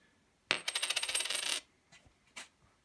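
Portuguese coins, including 50 centavos and escudo pieces, are handled and dropped in a quick jingling burst, close and bright, followed by a few faint separate clinks.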